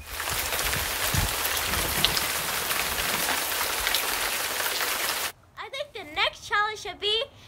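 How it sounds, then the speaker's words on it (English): Steady rain falls as a dense, loud hiss of drops on a surface for about five seconds, then cuts off abruptly as a person starts talking. "Today is sunny with a little bit of rain."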